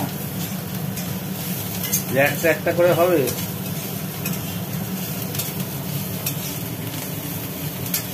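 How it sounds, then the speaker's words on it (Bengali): Ganges river shrimp fry in oil in a kadai on a gas stove, giving a steady, moderate sizzle that continues throughout while a person speaks briefly over it. "এদিকে তো চিংড়ি মাছ ভাজা চলছে"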